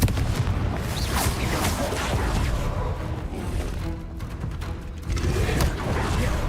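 A Confringo blasting spell from the Hogwarts Legacy video game goes off amid a dense run of booming, crackling bursts, loud and sustained throughout with no pause in the barrage.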